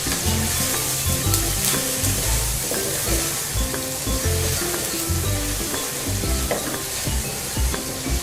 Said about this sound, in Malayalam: എന്നിട്ട് ചെറുതായിട്ടൊന്ന് ഇളക്കി കൊടുക്കാം